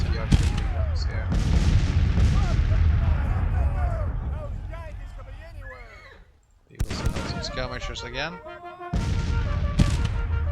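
Artillery cannon fire from Civil War batteries in the video game Grand Tactician rumbles as repeated heavy booms and musket crackle, dense and continuous, dropping briefly before resuming; someone speaks briefly over the battle.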